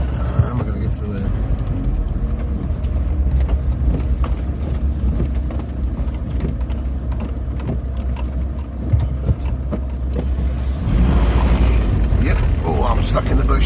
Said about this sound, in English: now there's a bloody car coming down